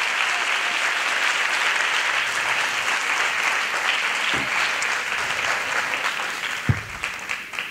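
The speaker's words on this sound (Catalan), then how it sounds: "Un aplaudiment per elles quatre." Steady applause from a crowd fills the whole stretch, even and sustained, with a couple of louder individual claps near the end.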